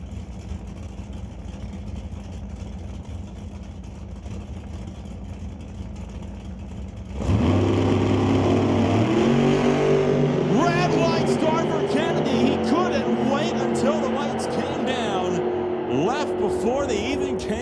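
Drag racing at Mission Raceway Park, with a 2004 Pontiac Grand Am and a Camaro. A faint background hum gives way to a sudden loud engine roar that holds and sweeps through shifting pitches, heard beneath an announcer's commentary.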